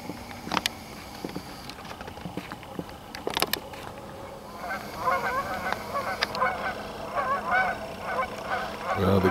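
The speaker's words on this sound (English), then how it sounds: "the geese have decided to amscray" A flock of geese honking near a beaver lodge, growing into a loud, overlapping chorus in the second half, with a few scattered knocks and clicks earlier.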